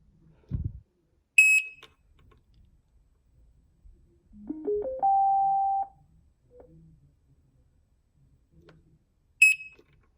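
Two short, sharp electronic beeps from a bicycle buzzer sound several seconds apart, with a rising whistle-like tone and faint handling noises between them in an otherwise quiet space.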